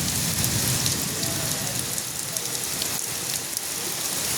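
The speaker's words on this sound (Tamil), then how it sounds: "மழை மின்னல் இடி மின்னல் மழை" Rain falls steadily on surfaces during a thunderstorm, a continuous dense hiss with scattered sharper drips and patters, close and constant throughout.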